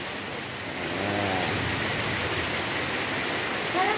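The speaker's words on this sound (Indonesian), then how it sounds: "hujannya deres lho" Heavy rain pours down at an outdoor wayang performance, a dense, steady hiss that fills the whole scene and swells slightly after the first second, with no voices standing out.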